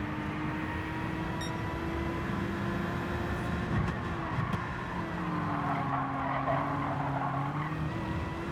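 Car tyres skidding under hard braking on a road, a loud sustained squeal lasting several seconds with engine and road noise underneath, no voices.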